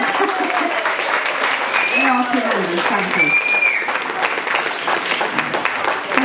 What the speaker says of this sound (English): give another round of applause for the wonderful swing time sweethearts